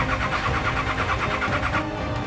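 A stolen 4WD's engine runs steadily and loudly, a continuous mid-pitched drone with rough, pulsing texture, as it begins cutting out after a kill switch is triggered.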